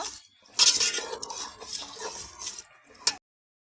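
Chicken and fried potatoes are stirred in a metal cooking pot for chicken biryani, with close scraping and clinking of a spoon against the pot in uneven strokes, ending in one sharp clink and then silence.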